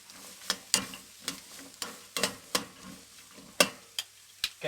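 Diced onions tossed into hot oil for a lamb jalfrezi curry base on a kamado grill, with a gentle sizzle under a run of sharp, regular scraping and stirring clicks, close and clear.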